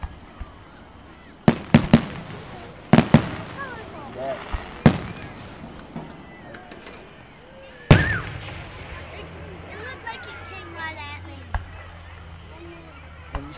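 Fourth of July fireworks burst in a series of sharp, loud bangs with crackling tails, several spaced seconds apart, while people talk throughout.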